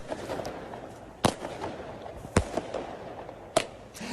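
Fireworks set off in the early hours outside a team hotel in Manchester crack three times in sharp, loud bangs spaced about a second apart, over a constant murmur of outdoor background noise.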